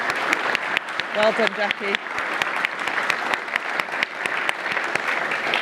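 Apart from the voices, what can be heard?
audience clapping at award event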